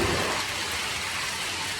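Steady heavy rain pours down during a rainy trip in Vietnam, a dense continuous hiss close by with no voices.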